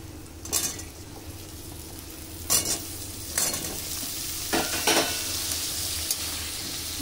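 Pumpkin pieces being stirred with fried spices in a pan, a steady sizzle under several loud, sharp spatula scrapes against the pan at irregular intervals, close and clear with no talking.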